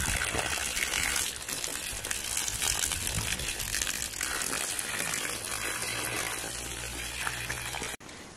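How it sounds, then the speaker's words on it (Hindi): Water gushes into a filling drum as a loud, continuous splashing rush with trickling detail, cutting off sharply near the end. "मैंने ड्रम लगाया था भरने को, तो अभी ये भर गया"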